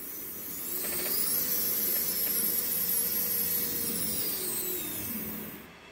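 A small RC winch motor driven by an electronic speed controller whirs steadily for a few seconds, a thin high-pitched whine with a faint buzzing hum that starts and stops, fairly quiet and close.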